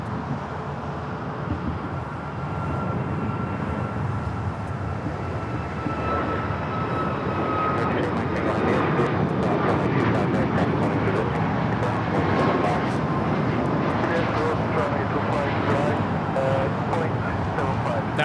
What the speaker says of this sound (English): That is Southwest Airlines 3538 taking off to Denver, Colorado on the MAX 8.